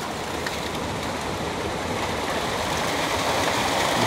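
Fast-flowing water rushes through a carp fish pond, a steady dense roar that stays loud and unbroken from start to finish, heard up close with no voices.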